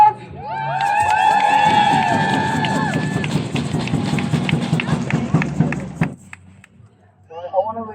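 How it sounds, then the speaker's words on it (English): A crowd at a women's march in Nottingham breaks into loud applause, cheering and high whoops that hold for about six seconds before suddenly dying away. "Give a big round of applause!"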